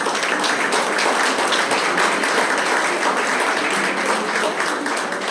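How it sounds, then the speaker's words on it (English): An audience applauding a guest speaker at a talk, loud, dense and sustained clapping from a large crowd that fills the whole stretch without pause. "And please, big applause to Younghoon."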